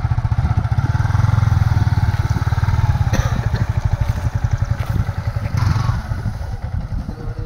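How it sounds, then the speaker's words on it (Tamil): A Yamaha R15 V4 sport motorcycle idles with a rapid throbbing beat, then pulls away slowly, its close, loud engine pulsing unevenly and fading slightly as it moves off, with light clatter. "லைட்டாக வண்டி மூவ் பண்ணி பார்க்கலாம்."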